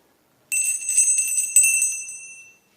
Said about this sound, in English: it's a small bell,